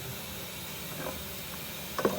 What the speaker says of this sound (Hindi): ये देखिए 20 मिनट हो गए और गोश्त अच्छी तरह भुन रहा है,